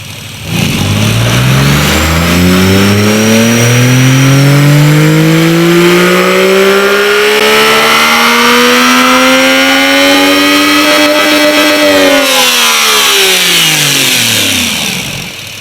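Turbocharged three-cylinder engine swapped into a Toyota Camry revs hard and loud, its pitch climbing steadily for about twelve seconds before dropping off, with a faint turbo whine riding above the close, continuous mechanical roar.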